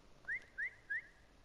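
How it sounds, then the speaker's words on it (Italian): Three short rising whistles, evenly spaced and clear, from a player in a Fortnite hide-and-seek match, each a quick upward sweep over faint background hiss with silence between them. "Facciamo che si può fischiare quanto si vuole."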